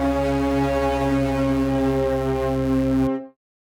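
A distorted synth layer blends with brassy horns in one loud, sustained, foghorn-like chord that holds steady for about three seconds before fading quickly to silence.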